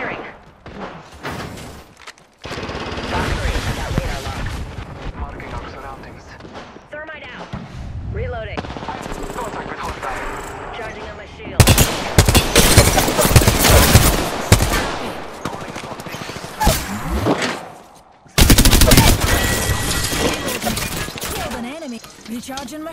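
Apex Legends gunfire rattles in rapid automatic bursts, loud and close, with sharp impacts and brief pauses between volleys across a busy firefight, game voice lines interjecting.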